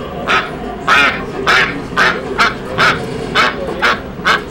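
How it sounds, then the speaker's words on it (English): A cartoonish duck quacking sound effect from a fighting-game match at a SoCal tournament, about eight loud, close quacks repeating at a steady pace of roughly two per second, with no voices. "You hear that? Yeah. Ducks."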